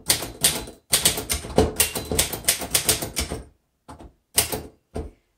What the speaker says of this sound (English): let's go ahead and type in again